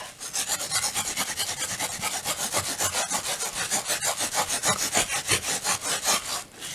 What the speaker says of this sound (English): I can rub a little harder through the bubble wrap.